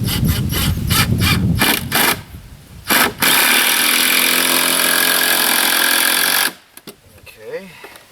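A power drill or driver whirs in a long steady burst while a screw is driven into a kitchen cabinet being mounted in a tiny house, after a few short bumps and scrapes, then stops.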